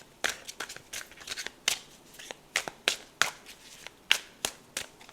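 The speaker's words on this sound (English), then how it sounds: "Let me shuffle a little bit the cards for you." Tarot cards are shuffled in quick irregular bursts of crisp riffling slaps, close and fairly quiet, about a dozen sharp flutters across a few seconds with near silence between.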